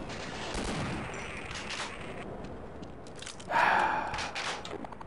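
Gunfire in the Half-Life video game, a fairly quiet burst of crunchy shots over steady in-game background noise, with one louder blast partway through.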